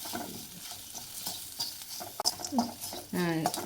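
Dried sundakkai (turkey berry) frying in a pan with turmeric and chilli powder gives a continuous close sizzle with occasional scraping and stirring sounds, moderately quiet, and a short voiced sound near the end.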